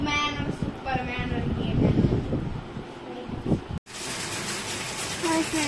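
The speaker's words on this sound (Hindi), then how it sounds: "अभी बज रहे हैं सुबह के 5:30 और ये देखिए बारिश हो रही है" Steady rain patters and hisses outdoors in the early morning at about 5:30, with gusty wind buffeting the microphone and a person talking over it.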